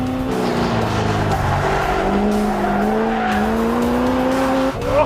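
Tires of a Corvette kart squeal hard while racing, a loud sustained screech wavering in pitch over a droning engine, close and continuous, no voices over it.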